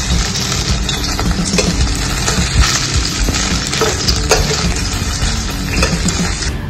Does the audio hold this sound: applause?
no